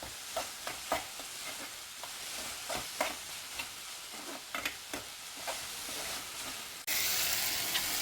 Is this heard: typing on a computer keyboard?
no